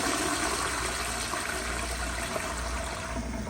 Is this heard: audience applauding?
no